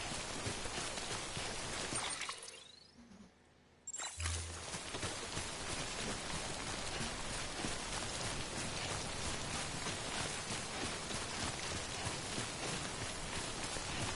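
Steady rain pours in the video game Death Stranding, a dense, even hiss that fills the whole stretch, broken by one short drop-out of near silence a few seconds in before the downpour resumes just as loud.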